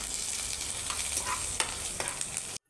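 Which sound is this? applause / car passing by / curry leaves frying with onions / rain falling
curry leaves frying with onions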